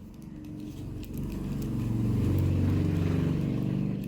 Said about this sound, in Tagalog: Ingay ng tricycle.